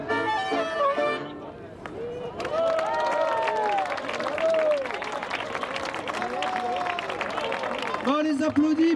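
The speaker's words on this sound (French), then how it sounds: "On les applaudit parce que on les a prévenus hyper tard, ils sont venus" An audience applauds musicians at an outdoor Gilets jaunes protest gathering in Marseille, a sustained wash of clapping and cheering with voices and babble mixed in, a speaker talking over the crowd.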